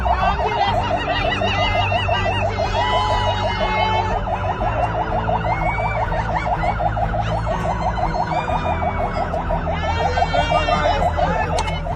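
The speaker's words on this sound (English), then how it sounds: "Ambulance is here!" A loud, continuous ambulance siren wails with a fast, rhythmic electronic warble that holds steady throughout, with no voices over it.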